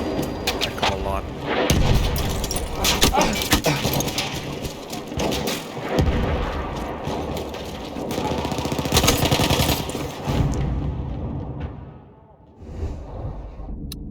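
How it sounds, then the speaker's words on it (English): Dense gunfire and explosions in the World War I shooter Battlefield 1, loud continuous bursts and booms that thin out near the end, with someone talking over the action. "Wow, these guys are shooting up."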